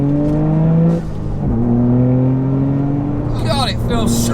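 Stock turbocharged Toyota GR Yaris driven hard on a race track, engine note droning steadily with a shift around the middle and rising pitch, loud and close throughout, tyre or wind whine rising near the end.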